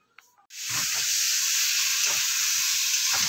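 Frying sets off in a home kitchen while fish curry is being cooked: after a brief quiet moment with small clicks, a loud steady hiss begins and continues with a few faint scrapes.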